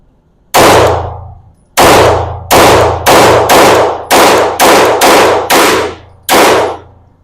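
Nine sharp, loud 9mm pistol shots from reloaded ammunition, each with a short ringing decay. The first comes alone, then the rest follow in a quick, uneven string, heard close with no voices.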